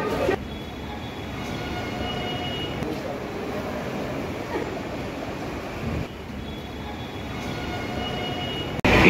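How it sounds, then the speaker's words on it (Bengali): A Budge Budge–Naihati local train runs along, heard from on board as a loud, steady rumble of wheels and carriage noise with faint rattles throughout. "এটা এখন যে ট্রেনে যাচ্ছি সেটা হচ্ছে বজবজ নৈহাটি লোকাল"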